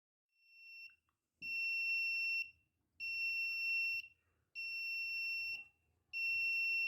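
An electronic buzzer sounds in four long, loud tonal bursts of about a second each, separated by short silences, after a quieter first beep.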